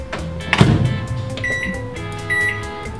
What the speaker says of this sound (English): Pasok natin siya sa microwave.